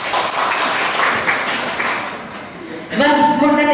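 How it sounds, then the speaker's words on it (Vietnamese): A crowd at a neighbourhood cultural show in Vietnam applauds in a dense, hissing wash of clapping for nearly three seconds before a voice on the sound system cuts in over it. "xin quý vị cho một tràng pháo tay nhiệt liệt"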